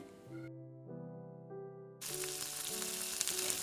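Cauliflower and potato with salt, chili powder and turmeric start frying in a pan; background music plays first, then a loud, dense sizzle bursts in and continues under it.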